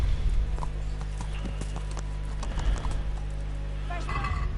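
In the video game Kingdom Come: Deliverance, rhythmic hoofbeats of a trotting horse clip-clop steadily over a low droning hum, with a horse's whinny rising briefly near the end.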